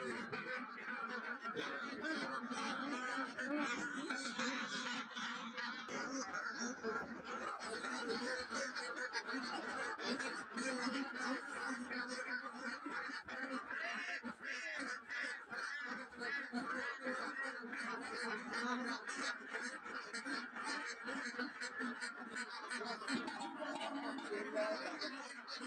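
Camel ducks at feeding time on a duck farm, a dense flock quacking and honking nonstop in a busy overlapping chorus, moderately close, with a voice speaking over them.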